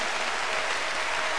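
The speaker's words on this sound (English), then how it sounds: "keep clapping for them as they go" A church congregation clapping during a service, a continuous even patter of many hands heard alone, moderately loud across the short span.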